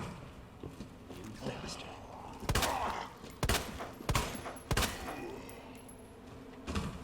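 Gunfire in Resident Evil 2 Remake comes in several sharp, separate shots, quick bursts a second or so apart over a low game ambience, while a player talks between them.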